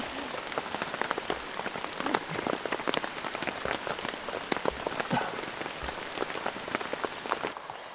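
Heavy rain drums steadily on a camping tent deep in a forest during a thunderstorm, a dense patter of close drops with sharper individual hits, continuous throughout with no talking.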